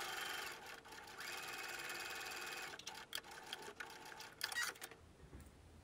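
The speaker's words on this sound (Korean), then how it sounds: "재봉해줄게요." A sewing machine stitches a folded bag strap, a quiet, close mechanical whirring run broken by short pauses, ending with a few brief stop-start bursts.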